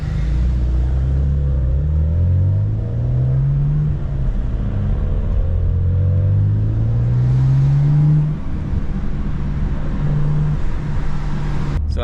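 BMW M4 engine running with its exhaust valves closed, a steady loud low drone with rising and falling engine pitch through revs, no burbles, continuous throughout without talk.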